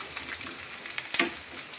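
Coriander seeds or dried coconut roast in a pan with a constant soft sizzle and scattered sharp pops and crackles, heard close and fairly quiet without speech.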